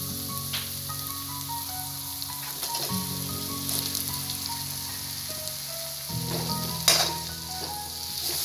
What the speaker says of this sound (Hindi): और इसे मिक्स कर लेंगे अच्छे से मसालों के साथ।